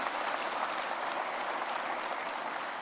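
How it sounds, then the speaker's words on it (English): An audience at a symposium opening applauding, a dense, even wash of many hands clapping at steady volume from start to finish, with no voices over it. "Let's go ahead and just give those guys a round of applause."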